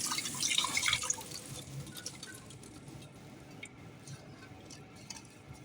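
Curry leaves being rinsed under running water in a kitchen: a soft, close trickle with light splashes, fuller for the first second and then settling into a faint steady flow, with no talking.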